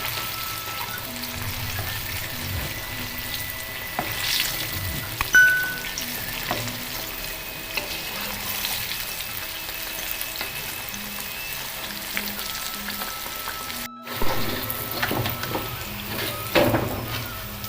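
Flour-coated banana fritters fry in hot oil, a steady close sizzle and bubbling with occasional clinks and stirring sounds, and no talking.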